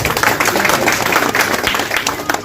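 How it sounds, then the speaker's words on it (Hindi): An audience applauding at an organization meeting at MIT College in Meerut, a dense, continuous burst of many hands clapping close by, loud and unbroken throughout. "आपके तालियों की आवाज होती रहनी चाहिए"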